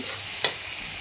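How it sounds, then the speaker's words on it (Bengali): Spice paste for a basa fish curry sizzles in a pan under a soft frying hiss, with one quick scrape of stirring partway through. "এখন নাড়াচাড়া করে নেব, কেননা আবার মশলাটা লেগে গেলে ভালো লাগবে না খেতে"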